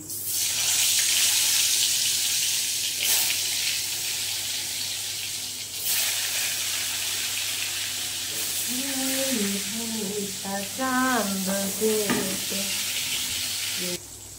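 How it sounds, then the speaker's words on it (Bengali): Pointed gourd (potol) pieces hit hot oil in a pan and fry with a steady, loud, close sizzle and hiss throughout, with a person talking over it in the later part. "এবার দিয়ে দিচ্ছি পটলগুলো ভাজার জন্য"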